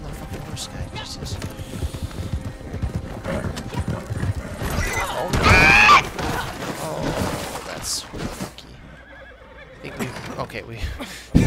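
A horse neighs loudly mid-clip in a cowboy video game, amid hoofbeats and game action noise, with people talking over parts of it.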